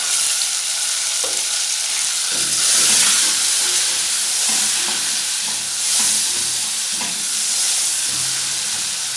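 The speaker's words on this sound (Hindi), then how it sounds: "अब हमने एक स्मॉल साइज़ का टमाटर जो चॉप करके रखा होता है ये डाल देंगे।" Chopped tomato hitting hot oil in a frying pan while making chana pulao, giving a loud, steady, close sizzle and hiss that lasts throughout, with faint stirring clatter underneath and no talking.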